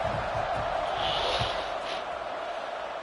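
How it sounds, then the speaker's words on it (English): A steady, dense stadium crowd buzzes throughout in an NCAA 26 football video game, a continuous broadband roar with faint swells and a few soft thumps underneath. "this crowd is buzzing after that last score."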